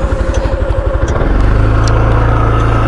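A motorcycle engine runs while riding, first with a rhythmic low chug, then the revs climb into a smoother, louder drone; close and dominant with faint road noise.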